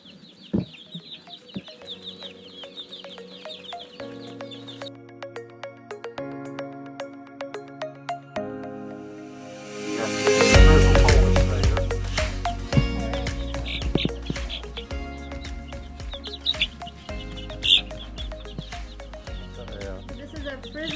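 Golden frizzle Polish chicken and its chicks on a backyard farm, clucking and chirping through the stretch, with a louder, denser burst of calls partway in and people talking nearby.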